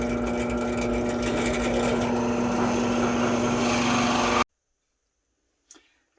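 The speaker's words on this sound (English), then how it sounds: "now that my hole has been drilled" Power drill boring a hole through a plywood board, a steady high whining motor hum running loud and close for several seconds before cutting off into silence, then a faint knock.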